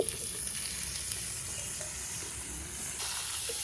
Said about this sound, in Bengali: নেড়ে চেড়ে একটু ভেজে নেই